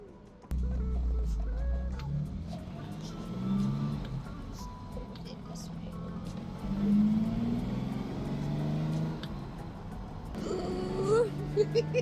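A 1954 Jaguar XK120 on its first drive starts up after a short quiet moment, its engine droning and rising through gears with cabin rattles, while a voice talks over part of the run.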